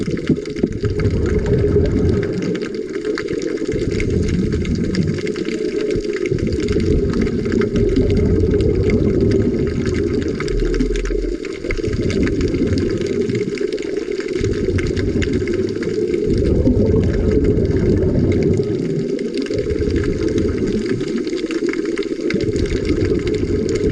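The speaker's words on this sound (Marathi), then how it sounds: "जे काही पाहताय त्याबरोबर समुद्राच्या आतला आवाज देखील ऐका." Underwater ambience while scuba diving in the sea, a steady muffled rushing roar with rhythmic swells of low bubbling and breathing-regulator surges repeating every few seconds.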